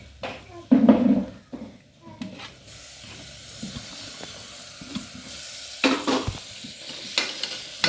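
Tomatoes go into a frying fish curry and get stirred over a raised flame, producing sizzling and hiss with bursts of scraping and stirring, and a voice talks over part of it.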